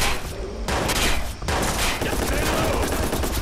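Rapid bursts of automatic gunfire in the Watch Dogs video game, loud and dense, with a brief pause near the middle before the shooting resumes.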